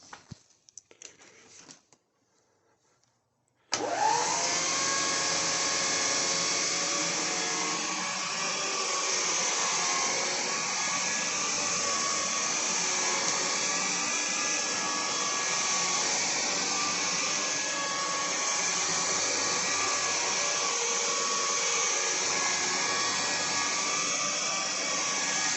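An Electrolux ZB89 vacuum with a PN6 power head switches on after a few soft knocks and runs steadily on a rug, a smooth whining roar holding at even loudness, close and without talk.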